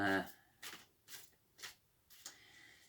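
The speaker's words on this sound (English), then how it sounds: "I was wondering why I started shuffling, because I normally put a deck down as soon as I finish" Tarot cards shuffle in quick riffling bursts, four or five short crisp flurries spaced about half a second apart, close and fairly quiet after a brief bit of talking at the start.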